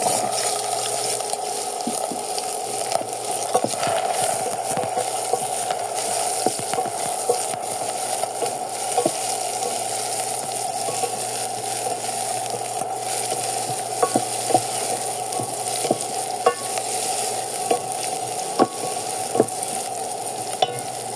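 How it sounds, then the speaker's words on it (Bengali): Onions frying in hot oil with whole cumin seeds in a Bangladeshi kitchen, a continuous close sizzle with repeated light clicks and scrapes of stirring throughout, no talking. "এখন এর মধ্যে পেঁয়াজ দিয়ে দিব।"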